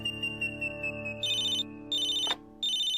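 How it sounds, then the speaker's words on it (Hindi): A household telephone rings with a repeated electronic ringtone, heard as loud, steady bursts separated by short gaps, with no one talking. "अब ये फोन बजता जा रहा है।"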